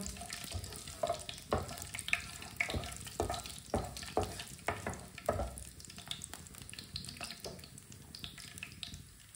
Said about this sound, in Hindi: दोनों चीजों को थोड़ा सा भून लेंगे। हल्का सा ब्राउन कर लेंगे दोनों चीजों को।